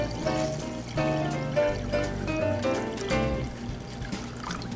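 Water is poured into a cooking pot holding soy sauce, corn syrup and rice wine for braised dried pollock, a steady close pour heard alone over a low background hum.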